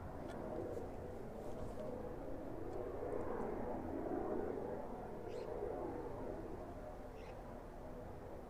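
A JCB fleet aircraft at East Midlands Airport gives a steady, distant engine rumble that holds level throughout, with faint bird chirps above it.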